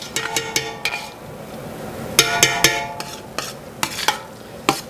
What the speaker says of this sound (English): sprinkle the flour over the top of the onions that I'm cooking. And just give that a stir